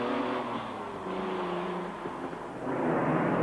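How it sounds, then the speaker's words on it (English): A Jaguar D-Type replica race car competing in a classic tarmac rally holds a steady, loud engine drone that swells again near the end, with no voices. "Former racer Doug MacArthur and his superb Jaguar D-Type replica in second place in his class."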